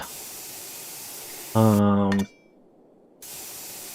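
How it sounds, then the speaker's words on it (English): A spray gun hisses steadily, broken by a brief electronic tone and a short silence before the hissing resumes. "Spray gun's a little loud."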